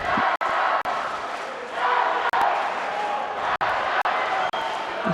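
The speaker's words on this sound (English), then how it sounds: "You can hear the crowd cheering." Spectators at a youth judo contest in Tbilisi keep up a steady, fairly loud roar of cheering and shouting, swelling slightly midway, with a few sharp clicks punctuating the crowd noise.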